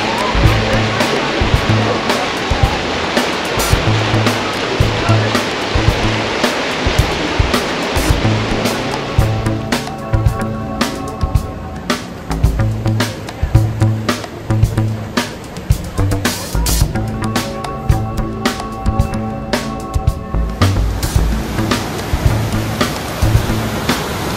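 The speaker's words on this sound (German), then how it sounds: "Blauer Himmel und daneben ein Bergsee, der plätschert." Splashing water of a mountain lake beside a rafting ride at a theme park, a loud continuous rushing and lapping wash that fills the whole stretch, with faint voices now and then.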